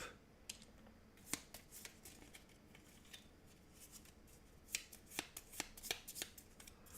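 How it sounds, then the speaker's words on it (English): Energy cards from the Raising Robots board game being shuffled by hand at close range, a series of crisp riffling bursts and snaps spread irregularly across the stretch, quiet between them, with no talking. "energy cards have been completed. So we now will shuffle those and start again"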